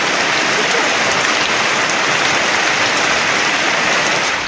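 Heavy rain hammers down across Coimbatore city as a dense, loud, unbroken hiss of water striking surfaces, steady from start to finish with no voices.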